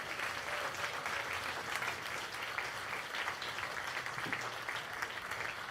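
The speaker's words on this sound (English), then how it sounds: "So let's give one more big clap to Tenzing." An audience gives sustained, dense applause at a talk, a steady wash of many clapping hands heard from a distance with no speech.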